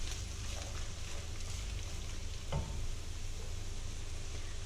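Potatoes and onion sizzle steadily in a frying pan as they are stirred, a continuous broadband hiss with one brief scrape of the utensil partway through, no voices.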